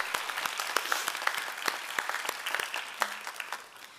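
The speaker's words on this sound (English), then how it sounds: "Can we give Magnum his own round of applause," An audience applauds at a school graduation ceremony, sustained hall clapping with sharp individual claps standing out, fairly near and steady before tapering slightly at the end.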